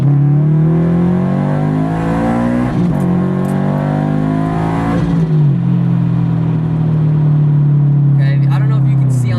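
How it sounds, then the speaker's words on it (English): A Subaru BRZ with a Southbend Stage 3 daily clutch pulls hard at full throttle in second gear with a loud, steady engine drone inside the cabin. It shifts into third with a brief dip and resumes the droning pull. "I'll get up to about 30 miles an hour and I'll floor it and shift to third"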